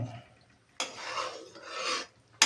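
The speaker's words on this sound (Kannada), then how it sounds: "ಹುರಿದ ಕಡಲೆ ಹಿಟ್ಟನ್ನು ತುಪ್ಪದಲ್ಲಿ ಕಲಸಿಟ್ಟಿದ್ದೇನೆ, ಅದನ್ನು ಹಾಕ್ತಾ ಇದ್ದೇನೆ" Ghee-mixed roasted gram flour scraped and stirred into hot sugar syrup for Mysore pak, two loud rasping scrapes close up, each lasting under a second, then a brief sharp scrape at the end.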